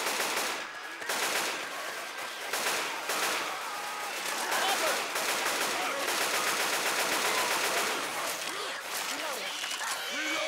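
Rapid video game gunfire on PC, including machine-gun bursts and repeated shots, rattles loudly and almost continuously. Voices are heard in the mix.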